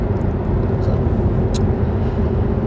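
Car driving, a steady low road rumble and engine drone heard from inside the cabin, continuous and fairly loud, with a few faint high clicks.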